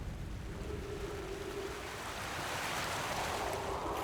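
Rushing waterfall in the video game Outer Wilds, a dense, continuous roar of falling water, loud and steady throughout.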